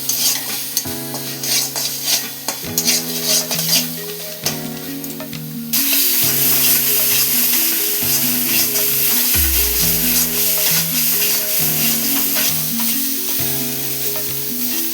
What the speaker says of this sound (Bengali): এইভাবে করতে হবে, যতক্ষণ না তেল ছাড়ে এইভাবে একটু ভালো করে কষে নিতে হবে।